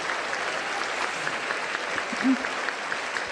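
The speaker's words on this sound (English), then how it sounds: "please give a round of applause for our distinguished guests" Sustained applause from an audience at the First Lady's Luncheon, steady and dense throughout with no pauses.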